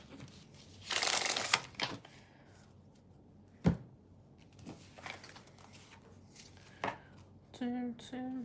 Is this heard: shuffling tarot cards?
yes